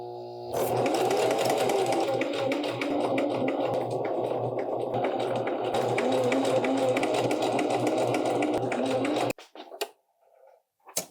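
A sewing machine stitching a pant leg runs in one loud, steady, fast mechanical whir for several seconds, then stops, leaving a few short clicks and handling noises.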